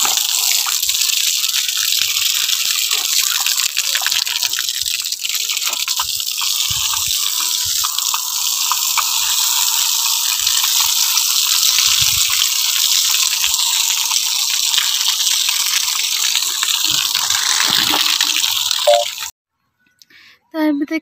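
Water is sprayed across a cement rooftop of a village house, making a loud, steady rushing hiss that runs on unbroken for about nineteen seconds before cutting off abruptly.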